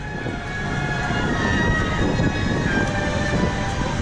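A Maverick roller coaster train at Cedar Point rumbles past as a steady, loud roar with a faint high whine over it, with no talking.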